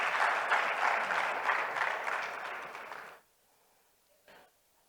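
An audience at a Botswana expo forum applauds in a dense, sustained burst for about three seconds, then it cuts off abruptly, leaving quiet with one faint later sound.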